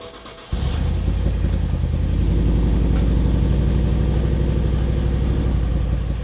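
A BMW X5M engine with a misfire fires up abruptly and settles into a loud, close idle with an uneven, lumpy pulsing rhythm.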